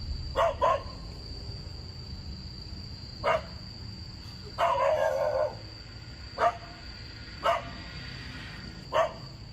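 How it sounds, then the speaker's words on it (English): A dog barks aggressively in short separated bursts, a double bark near the start then single barks spaced through the scene, over a steady low background rumble; no clear growl stands out. "The dog aggressively growls and barks at something Yama can't see."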